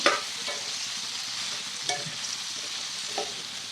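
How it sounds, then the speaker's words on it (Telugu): A spoon stirs a bitter gourd curry mixture with turmeric in a hot pan, scraping in a few distinct strokes over a continuous close sizzle with no talking. "పసుపు యాడ్ చేసిన తర్వాత ఈ మొత్తాన్ని ఒకసారి కలుపుదామండి"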